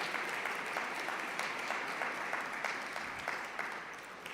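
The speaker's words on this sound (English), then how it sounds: "can we give a huge round of applause to all of our youth that are here today?" An audience at a religious gathering gives a steady, even round of applause, distant and sustained, with no voices over it.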